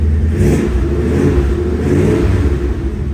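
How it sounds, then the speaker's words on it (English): A loud, throaty 1984 Shelby Cobra replica engine rumbles and revs up close through side exhaust pipes, a deep steady exhaust roar with slight rises in pitch. "those side pipes sound awesome on this car"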